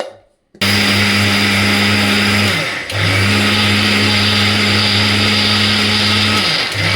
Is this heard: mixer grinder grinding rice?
yes